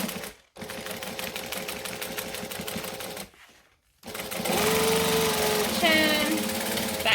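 Sewing machine stitching fabric for a garment, running in steady bursts with a short pause mid-way, then a louder stretch where the whir continues with a brief back stitch; a voice speaks over it.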